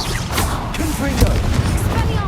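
Spell blasts of the Confringo fire spell in Hogwarts Legacy combat: a series of booming, crackling explosions with a strong thud near the middle, set among busy battle noise and voices.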